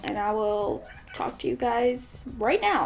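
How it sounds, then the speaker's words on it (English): A house cat meows several times in drawn-out, wavering cries close by, mixed in with a person speaking indoors. "I'm sorry if you can hear my cat in the background."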